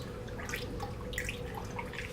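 Water is swirled around in a weighing tank, a continuous soft sloshing and trickling with small drips and bubbles, steady and fairly quiet throughout.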